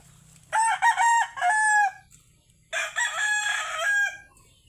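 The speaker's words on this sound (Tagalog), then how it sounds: "Ito yung isa kong manok." A rooster crows twice nearby, each call loud and drawn out, separated by a short pause.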